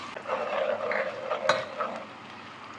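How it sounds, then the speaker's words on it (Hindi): Sliced onions frying in half a cup of oil for a Karachi chicken biryani, a steady moderate sizzle with light stirring scrapes and one sharp clink partway through, no talking. "इसमें मैं सारी प्याज डाल दूँगी। प्याज को गोल्डन होने तक तलूँगी।"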